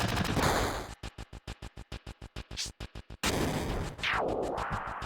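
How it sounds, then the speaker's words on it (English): Grenade attacks in a Final Fantasy VII battle, a rapid train of evenly spaced popping blasts followed by a larger explosive burst and a falling whoosh, loud and up front. "This is just grenades."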